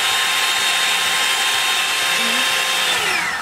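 A Revlon 2-in-1 hair dryer blows on its highest setting, giving a loud, steady, close airy roar with a faint motor whine. It runs alone and unbroken throughout.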